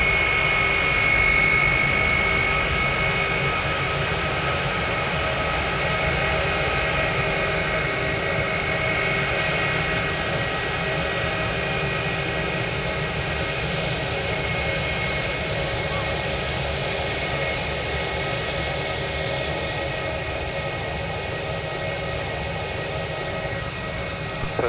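A Qantas QF9 jet airliner on approach to land on runway 03 gives a steady, loud jet engine roar with a high whine, holding constant for the whole span and heard alone without talk.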